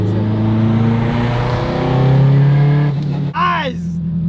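A 700hp Honda Civic Type R race car engine revs hard and climbs steadily in pitch into VTEC, loud and close, then briefly drops off and swells again, with excited voices shouting over it.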